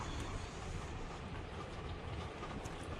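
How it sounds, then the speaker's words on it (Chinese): Heavy rain falls on the fiberglass roof of a camper van at night. From inside, it is a quiet, even, continuous patter and rumble with no other sounds over it. "就单纯是这个雨打到 车顶的那个声音"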